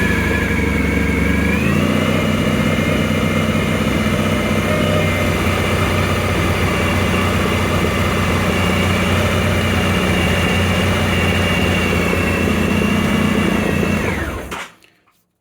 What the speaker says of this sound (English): I'll start the bike up, and I will get the RPM up off of idle